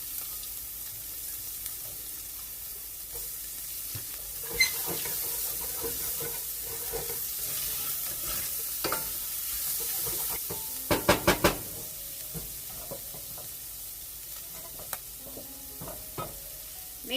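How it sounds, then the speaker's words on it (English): Half a small onion frying with browned bacon in a pan, giving a steady sizzle with stirring scrapes and a burst of sharp clatters partway through, and no talking over it. "Now that the bacon has some color on it, I'm going to add the onion."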